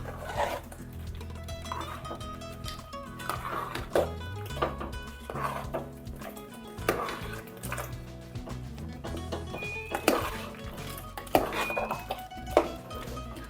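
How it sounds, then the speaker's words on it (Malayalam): A spoon stirs and scrapes through a thick masala curry of taro, tapioca and chickpeas with curry leaves in a pot, soft irregular clinks and knocks of metal on metal, with a faint voice in the background. "നല്ല ഇളക്കി കൊടുക്കാം."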